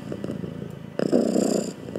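A cat purrs loudly and close, a steady low rumble that swells after the first second and holds, with a quieter purr underneath before that.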